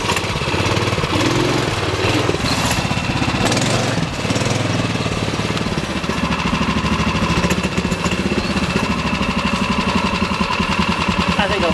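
A ROKON motorbike engine labors loudly and continuously as the bike climbs rough terrain up against a wall, a dense, rattling mid-range drone that shifts slightly in pitch as the load changes. A voice may be partly buried beneath it.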